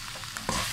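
Sliced colored bell peppers hitting a hot frying pan and sizzling, a continuous close hiss that swells sharply as they go in, with some stirring, no talk.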